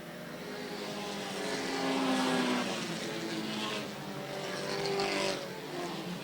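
Stock race cars roar past on the Airborne Speedway oval in Plattsburgh, completing a lap, a steady dense engine drone swelling twice as the pack passes, loud and continuous with no voices.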